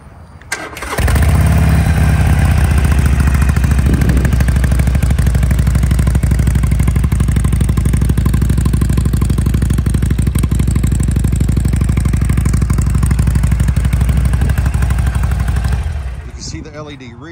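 A low-mileage 2020 Harley-Davidson Sportster cranks briefly, fires up and settles into a loud, close, lumpy idle that carries on steadily for about fifteen seconds before cutting off.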